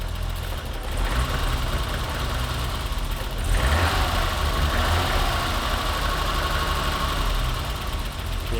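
A BMW E30 with the M20 engine idles steadily with a sticky throttle, a loud, continuous mechanical rumble with a slight shift in tone partway through and no talking.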